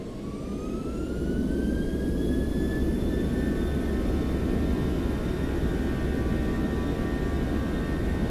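A Boeing 737-800 in X-Plane 12 at takeoff power: a steady, loud jet engine roar with a rising whine that climbs in pitch and holds throughout, with no voices.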